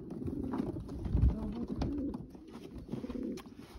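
Original racing pigeon, number 229, from Robert Bauer's 2019 Janssen De Klak line, cooing close by in a repeated low throaty coo, with soft shuffling in between.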